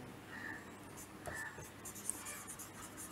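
Faint scratchy strokes of writing on a board in a classroom physics lesson, short uneven scrapes and taps close by in a quiet room.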